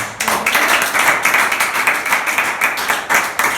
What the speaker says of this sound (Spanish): Vamos a aplaudir a Jesús.